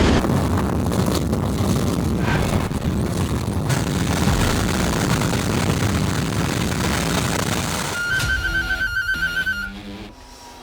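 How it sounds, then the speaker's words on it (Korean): A Nuri rocket launch, engine ignition roaring as a loud, broad, sustained rush that fills the whole clip before cutting to quieter tones near the end. "3, 2, 엔진 점화."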